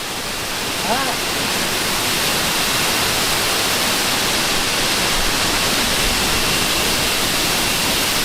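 A loud, constant roar of rushing water fills the whole clip, broad and unbroken, from a nearby waterfall at Ban Mae Po Khi, Tha Song Yang, Tak, Thailand.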